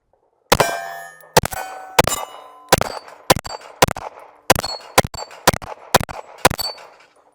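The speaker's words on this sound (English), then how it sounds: "So let's just shoot some steel," Shots from a TTI Canik pistol clang off steel targets in a quick run of about a dozen sharp hits, each followed by a short metallic ring, with no talk over them.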